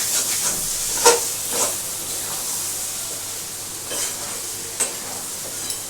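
Capsicum paneer korma frying in a pan and being stirred: a steady hiss and sizzle of oil with occasional clinks and scrapes of the spoon against the pan, close and alone.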